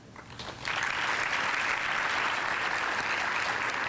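Loud, sustained applause from a large audience at an educators' awards ceremony, rising quickly after a brief softer start and continuing steadily throughout.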